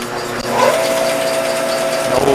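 A floor drill press runs in a home workshop, giving a steady motor hum with a thin whine that rises and holds, close and even.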